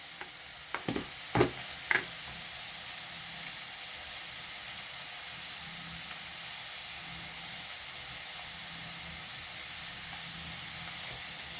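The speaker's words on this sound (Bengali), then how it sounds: "এরপরে সমস্ত সবজিকে আমি ভালোভাবে নাড়াঘাটা করে নেব।" A few clanking scrapes of stirring vegetables in a pan for poha come at the start, then a soft steady sizzle and hiss carry on alone.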